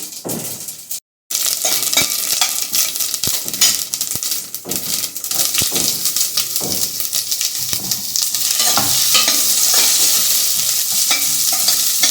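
Onion and other ingredients sizzle and fry in a little hot oil for tomato chutney tempering, with steady frying hiss, a brief dropout near the start, and repeated spoon scrapes and clinks against the pan.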